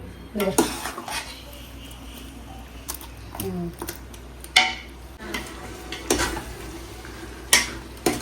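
A metal spoon stirs and scrapes food in a pot over high heat in a home kitchen, with irregular clanks and knocks against the vessel and a faint sizzle beneath, spaced bursts close to the listener.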